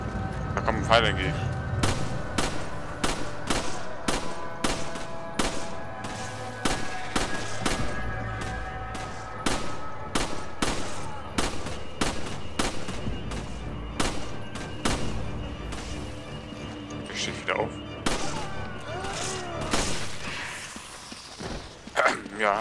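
Gunshots in the video game Resident Evil 5 during sniper action: a rapid series of sharp, loud cracks at irregular intervals, with game sounds and people talking over them.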